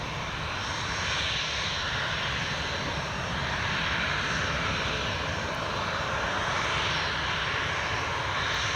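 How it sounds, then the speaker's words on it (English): A Jet2 Boeing 737-800 waits at the runway at Newcastle International Airport, its jet engines giving a loud, continuous roar and whine that swells and eases slightly, heard from a moderate distance with no talking. "next up, ready and waiting to go, is Jet2's 737-800 in the holidays livery"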